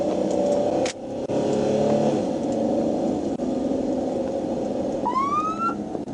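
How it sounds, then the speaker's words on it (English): A white Cadillac speeds along the road while police pursue it: a steady roar of engine and road noise, with a rising siren-like whoop cutting in near the end. "a white Cadillac that was behaving inappropriately on the road and speeding"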